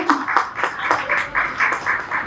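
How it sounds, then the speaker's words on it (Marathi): Guests at a 68th birthday celebration clap for the birthday woman, a steady rhythmic run of claps repeating at an even beat, fairly close and moderately loud. "जोरदार टाळ्या त्यांच्यासाठी"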